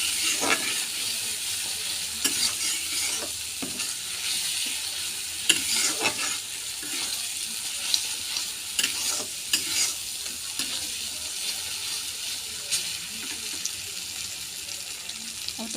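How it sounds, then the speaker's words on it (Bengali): Turmeric and cumin powders sizzle in a pan with a little water while being sautéed for a soyabean potato curry. The steady frying hiss is broken by repeated scraping stirs, close and continuous for over fifteen seconds. "ভালো করে মশলাগুলোকে কষিয়ে নেব"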